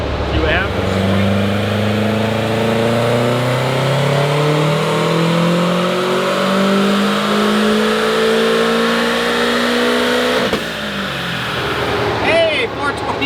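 A tuned Subaru WRX STI engine pulls hard under load in one long rising rev, loud and close, then drops off sharply near the end amid some rattling; speech may be present underneath.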